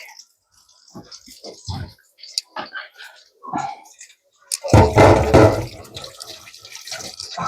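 Water running from a kitchen tap while hands are washed, a loud rushing splash in the second half, preceded by scattered soft handling noises and quiet murmuring.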